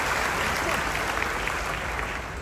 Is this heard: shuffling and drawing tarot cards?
no